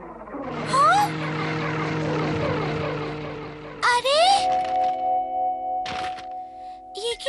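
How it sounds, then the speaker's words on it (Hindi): A remote control toy helicopter in a cartoon, its buzzing rotor whine held steady with rising sweeps, cut by sharp cartoon sound effects and bursts of noise. "प्यारी यूमिको, आज ही पापा ने मुझे ये रिमोट कंट्रोल वाला हेलीकॉप्टर खरीद दिया है।"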